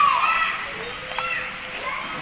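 Water splashes into a large pan of roasting peanuts, green chillies, bay leaf and cinnamon cooked over a wood-fired stove, a continuous sloshing hiss close by.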